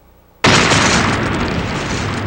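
An explosion sound effect bursts in suddenly and loud, a dense full-range blast that then sustains as a thick roaring rumble without fading much.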